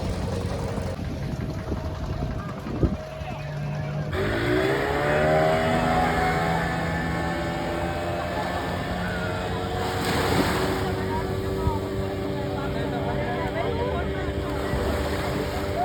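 Waves and boats at Shivrajpur beach near Dwarka: continuous surf and wind noise buffet the microphone, with a boat engine droning underneath and people talking nearby.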